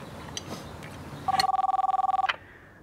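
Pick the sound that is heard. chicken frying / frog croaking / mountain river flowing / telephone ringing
telephone ringing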